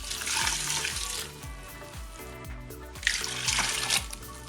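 Water pouring into an Instant Pot while oats are measured out: a continuous splashing, trickling stream, fairly quiet and close, with gurgling pitch rising as the pot fills.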